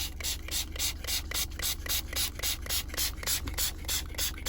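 Trigger spray bottle filled with water and car shampoo, misted repeatedly inside a car in quick rhythmic bursts of hissing spray, close and moderately loud.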